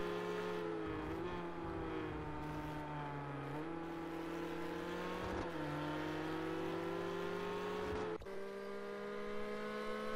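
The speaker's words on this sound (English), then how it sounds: "Great shot of the GT40 and the Ferrari going past here on the main straight" A Ford GT40 and a Ferrari race down the main straight in Project Cars 2. Their loud, continuous engine howls hold steady, with pitch dips and shifts as gears change, and the tone changes abruptly near the end as they sweep past.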